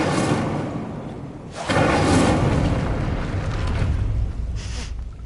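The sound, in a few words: Incendio fire spell cast in Hogwarts video game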